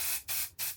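A vase gets coated with white spray paint in three quick, close hissing bursts separated by brief gaps, loud and bright, with no talk.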